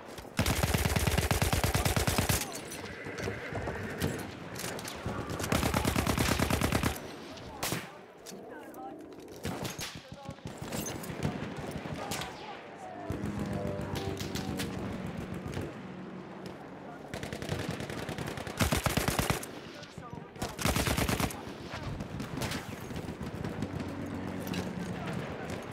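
Battlefield 1 battle with dense, sustained gunfire, rapid machine-gun bursts and loud volleys that come and go in waves, mixed with rumbling explosions and a voice talking now and then.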